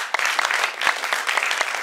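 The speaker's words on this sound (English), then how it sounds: "Applaudissez le poète, s'il vous plaît." An audience applauds a poet at a slam poetry competition, a dense burst of many hands clapping steadily at moderate loudness.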